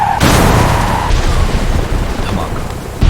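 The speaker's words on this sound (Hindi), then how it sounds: "धमाका इतना तेज था कि उसकी आवाज 10 से 12 किलोमीटर दूर तक सुनाई दी।" In a 2D animation, an explosive-laden car slams into a bus carrying soldiers. A loud sudden blast hits and then rolls on as sustained roaring rumble and debris, ending in another sharp burst.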